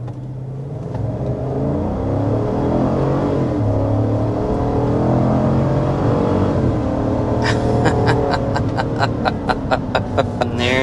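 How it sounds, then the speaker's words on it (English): A GMC Yukon Denali Ultimate SUV with a 6.2-liter V8 accelerating hard, the engine note climbing steadily and loudly from inside the cabin, with rapid clicking or ticking joining in the final seconds. "we need to start with a hard acceleration"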